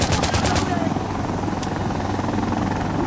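Video-game gunfire in Insurgency Sandstorm, a rapid burst of five or six loud shots at the start, then a lone distant crack, all over a constant droning helicopter-like rumble.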